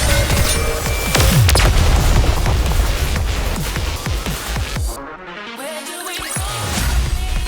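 Gunfire in the video game Nikke sounds as a rapid string of loud shots with booming impacts, then a brief pause and more rumbling.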